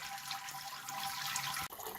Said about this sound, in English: as you can hear, it's draining down